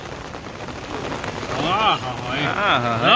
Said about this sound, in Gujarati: ભાઈ સેદડામાં તો ફૂલ વરસાદ